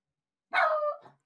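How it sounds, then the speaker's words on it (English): A single dog bark rings out close and clear, one sharp, loud yelp with a short trailing tail, alone with no talk over it. "Sorry for Taylor barking, but someone might be at the door"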